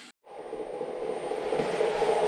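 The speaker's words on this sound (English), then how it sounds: "And we are spinning some Renault motor. This is 500 RPM on the motor shaft." A Renault electric motor spinning at 500 RPM on a test bench, heard as a steady whirring hum with a faint high whine that comes in after a brief dropout and slowly grows louder.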